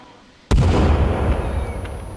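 A time bomb goes off in the Sons of the Forest survival game with one sudden, loud, deep blast after a quiet moment, then a long rumbling roar and debris noise that slowly fades.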